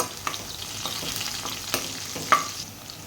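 Green chillies fry in hot oil as a tempering for dal, giving a steady close sizzle with occasional small pops and stirring clicks.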